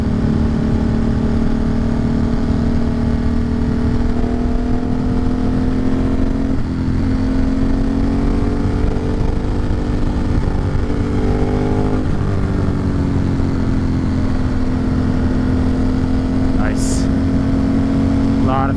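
A motorcycle engine drones steadily while riding along winding forest roads, a loud, continuous hum with gentle shifts in pitch as the bike accelerates and eases off; a rider talks over it at times.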